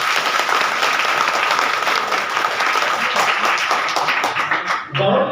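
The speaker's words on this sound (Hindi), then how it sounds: "एक बार और जोर से ताली।" Loud, sustained clapping from a gathered crowd at a religious satsang at an ashram, dense and even throughout before tapering off abruptly near the end.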